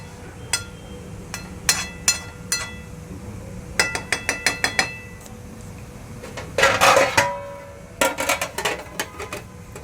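Metal pot lid set onto a pot of rice left to steam in a home kitchen, a series of sharp clinks and clatters, scattered taps and a longer rattling scrape, close and fairly loud with no talk.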